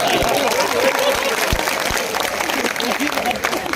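A crowd at a Hindi comedy poetry recital breaks into strong, continuous applause, dense clapping with a few sharp claps standing out, loud and close, under some talk.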